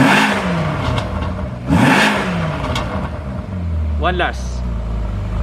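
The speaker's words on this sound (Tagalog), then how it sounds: "I-check natin kung anong sound ng exhaust tips niya." Ferrari exhaust, a series of short revving bursts with rising and falling pitch, loud and close, followed by a lower sustained engine drone, with a brief spoken remark partway through.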